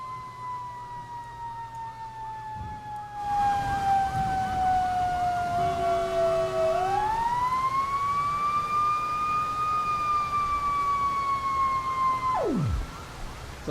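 A fire apparatus siren being tested wails in a long, loud sweeping tone that dips, climbs, holds steady and then cuts off sharply near the end, heard up close with a hum underneath.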